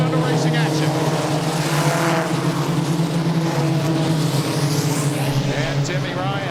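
Race cars circle Columbus Motor Speedway in an evening race, a steady loud engine roar with pitch sweeps as cars pass, continuous throughout with crowd and track ambience.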